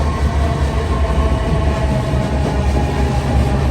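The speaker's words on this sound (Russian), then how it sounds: "Тут проходит ветка Мармарай." Marmaray commuter train in Istanbul rumbling past on a combined surface-underground line, a steady loud rolling roar of rail cars with low rumble throughout, no talking.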